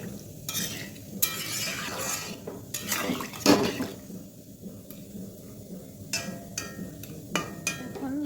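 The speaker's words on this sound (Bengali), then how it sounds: "এখন আমার পেঁপেগুলিও দিয়ে ভালো করে কষাবো।" Papaya pieces stir-fried in a pan, with a spatula scraping and clinking against the metal in steady, close strokes over a low sizzle, with no talk.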